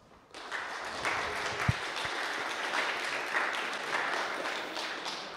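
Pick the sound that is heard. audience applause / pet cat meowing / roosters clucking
audience applause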